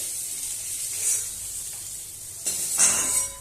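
Koi fish frying in hot oil over a high gas flame, giving a steady bright sizzle with two louder hissing surges as pieces shift in the pan.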